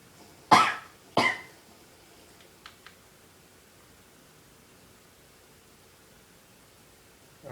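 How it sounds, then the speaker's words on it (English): Two sharp coughs from a sick person close together near the start, followed by a couple of faint clicks and quiet background hiss. "Sorry if I'm coughing a lot."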